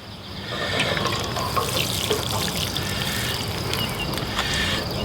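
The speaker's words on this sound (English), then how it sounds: "And you just want to make sure you water it in." Water pours steadily from a watering can onto a freshly planted zucchini transplant in a garden bed, a continuous close splashing trickle with no talk.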